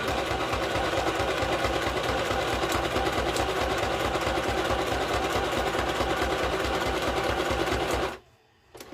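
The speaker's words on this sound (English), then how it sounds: "I'm sewing." A sewing machine stitches nonstop at a steady, rapid mechanical rhythm for about eight seconds, loud and close, then cuts off abruptly.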